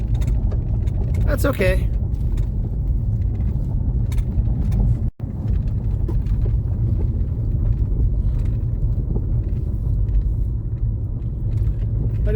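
A Ford Focus rolling slowly along a gravel road at about 15 mph, with a steady low rumble of tires and engine and some wind buffeting throughout, while a person speaks briefly inside the car.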